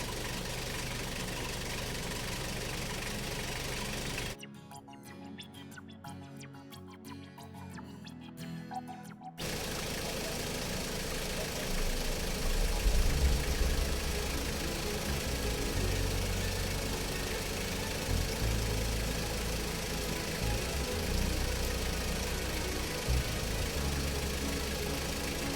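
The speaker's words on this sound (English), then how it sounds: "I let the engine idle for 10 minutes to further charge the battery" A car engine with a drained battery idles steadily with a low, continuous rumble while recharging, briefly cut out near the start before the hum returns.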